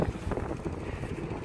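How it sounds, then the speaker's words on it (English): Strong wind buffets the microphone outdoors in a store parking lot, a constant rough low rumble with gusty fluctuations and no voices. "it's so windy"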